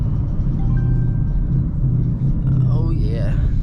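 Ford Mustang Mach 1 engine rumbling steadily on a back road, heard from inside the car with a low drone throughout and a slight rising whine near the end; a person talks over it.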